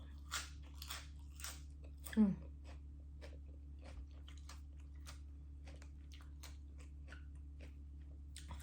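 Someone eating crispy vegetables alongside som tam, giving close, sparse bites and wet crunchy chews against steady background hum, with a brief murmur of voice.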